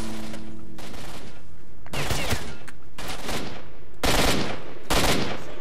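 Bursts of gunfire in the S.T.A.L.K.E.R. shooter game, with several loud, separate volleys of rapid shots and short quieter gaps between them.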